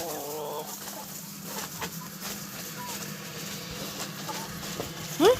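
Chickens and a rooster cluck softly in the background of a quiet outdoor space, with scattered faint calls and a sharper squawk at the end.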